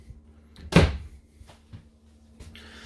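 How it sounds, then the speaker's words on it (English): A sliding bathroom door in a 2020 Cedar Creek 34IK fifth wheel RV gives one solid thunk as it moves and shuts, followed by a few faint knocks and a brief rustle. "I like the sliding door aspect of the bathroom as well."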